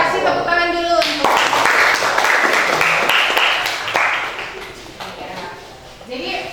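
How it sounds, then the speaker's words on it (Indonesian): An audience in a classroom presentation session claps briefly, the applause rising after a spoken introduction and running for a few seconds before fading as a voice resumes. "Kasih tepuk tangan dulu untuk."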